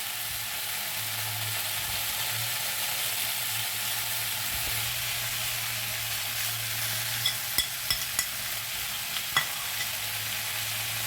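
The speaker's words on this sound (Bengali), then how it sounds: "মশলা দিয়ে ভালো করে ভাজিয়ে নেবো আবার সবজিগুলোকে।" Vegetables for Bengali shukto fry steadily in a pan with cumin powder, fenugreek and roasted mustard powder, a continuous close sizzle with a few sharp clicks of stirring near the end.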